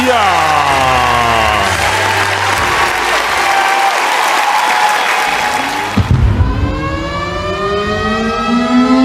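An audience at a school pageant for National Santri Day applauds loudly and steadily while a siren-like tone and music sweep over the clapping, followed by a rising musical swell.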